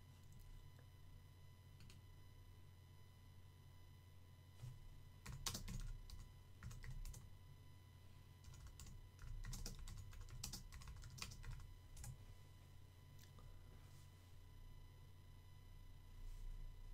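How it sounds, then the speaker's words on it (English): Bursts of quiet typing on a computer keyboard during a stream, soft clustered clicks coming in short runs with pauses over a low steady hum, no speech. "typing in that Discord"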